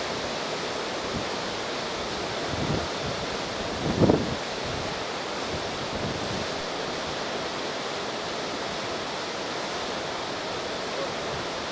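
A steady, dense roar of water surges through ten dam gates of the Basavasagar reservoir into the Krishna river, a continuous broad wash with one brief louder swell.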